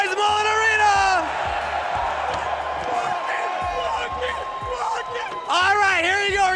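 A packed esports arena crowd roars and whoops in loud rising and falling waves, with a rhythmic thumping beat underneath and a brief lull in the middle before the cheering swells again.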